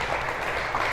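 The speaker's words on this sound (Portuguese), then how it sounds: "aplauda, aplauda ao Senhor" A church congregation applauds in a brief, dense burst of steady clapping during a worship service.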